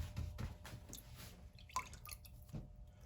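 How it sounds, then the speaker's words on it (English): A paintbrush carrying acrylic paint is rinsed in a water container, producing soft, faint dripping and sloshing with small splashes and taps spread over a few seconds, no talk. "So I'll wash my brush again."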